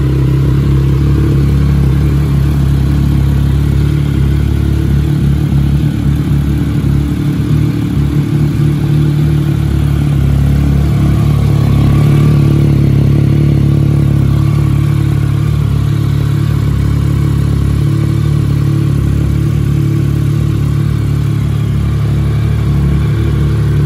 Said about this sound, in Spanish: Bueno, la voy a arrancar, ¿eh? Doy al embrague y al botón este.